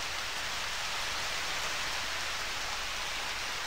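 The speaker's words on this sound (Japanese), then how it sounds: "雨降ってる中での作業なんで不安はあると思いますけどね。" Steady rain falls in the farming game Harvest Moon, a dense, even hiss of drops pattering continuously and close at a constant level, with no voices.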